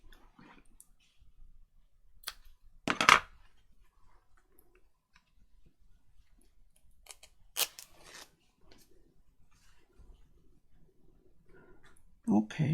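A few sharp scissor snips cut off a piece of material, each crisp and brief, spaced apart in a quiet room with small handling clicks between them.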